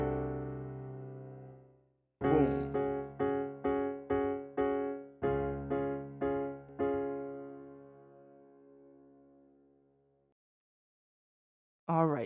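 Piano chords ring out: a held chord decays, then a run of rhythmic repeated strikes of the 4 chord follows, ending in a long sustained chord and a final attack.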